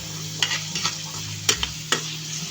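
Papaya fries sizzle in a pan, a continuous frying hiss broken by several sharp scrapes and stirs of a utensil at uneven intervals, close and fairly loud, with no voices.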